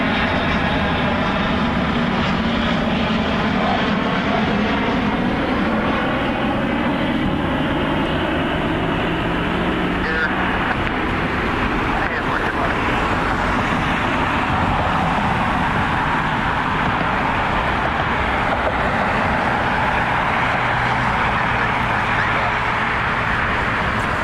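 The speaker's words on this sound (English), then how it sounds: "Something taxiing over there." An airplane taxiing at Cleveland Hopkins airport at night, a steady, broad engine roar that holds fairly loud for the whole stretch, with a faint low hum beneath and no other distinct events.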